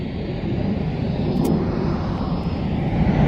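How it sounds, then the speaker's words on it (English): Aircraft at an airfield, one on approach and one taking off, a steady loud broadband engine roar and rumble holding throughout, with no voices over it. "One on the approach, one taking off."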